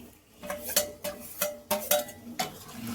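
A spoon stirring dhoka curry with green peas in a pan after water is added: about eight distinct metallic scrapes and clinks at an irregular rhythm, close and fairly quiet, with faint background hum between strokes.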